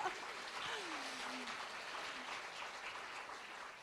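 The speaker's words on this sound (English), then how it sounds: "We get a round of applause for live events." Audience applause at a live conference event, a steady wash of clapping from a crowd held for several seconds, with a faint voice briefly rising over it.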